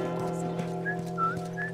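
A person whistles a few short rising notes over a steady background hum from The Last of Us gameplay, brief and moderately loud with no talking.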